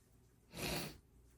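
A single short, faint nasal sniffle, one quick breathy snort through the nose in a quiet indoor space.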